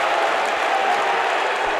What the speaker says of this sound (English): crowd does not like the call.